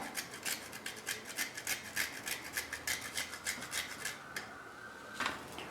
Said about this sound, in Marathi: जायफळ आहे थोडंसं किसून घेऊया